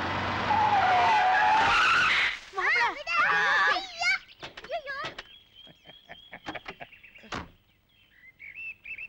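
A diesel car skids hard during a street race, a loud broadband screech that fills the first two seconds, then gives way to quieter chirps, tones and voices.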